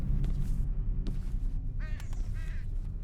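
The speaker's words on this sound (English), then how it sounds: "I hear the bird. Where's the bird?" A bird in a video game gives a few short cawing calls over a constant low rumbling background, with brief clicks in between and no speech.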